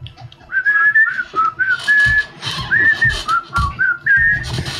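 Several people whistle a bouncy melody together, bright wavering notes in a steady rhythm with breathy, airy texture underneath.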